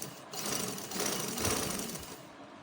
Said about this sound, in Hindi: मैंने पाइपिंग को यहाँ पे दोबारा इसके ऊपर सिलाई लगाना शुरू कर दी है